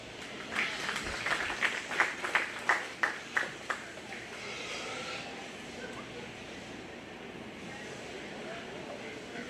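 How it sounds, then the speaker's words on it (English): A short burst of applause at a 4-H and FFA county fair swine show, a crowd clapping in a quick run of claps that fades out into quiet room noise. "Let's give that young lady a round of applause."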